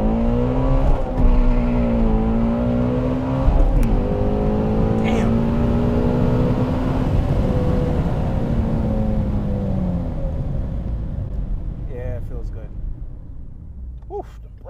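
A Shelby GT350 with traction control off drives on a side road, its engine revving and rising in pitch as it accelerates, loud and close from inside the car, with a person talking over it.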